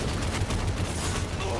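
Rapid gunfire crackles in a video game shootout, a dense burst of overlapping shots at steady loudness, with players talking over it.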